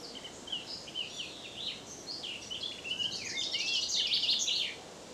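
A whitethroat sings among a chaffinch, blackbird and blackcap outdoors, overlapping chirps, warbles and scratchy phrases that grow busier toward the end, moderately faint against a soft background hiss.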